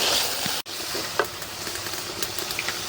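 Potatoes frying in hot oil in a pan send up a steady, close sizzle with small crackles and pops, continuous for a few seconds with no talking.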